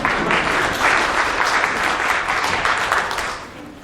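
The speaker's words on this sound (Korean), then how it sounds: "박수 한번 치주세요" Steady, fairly loud applause from a conference audience continues without a break for several seconds, then begins to taper off in the last half second.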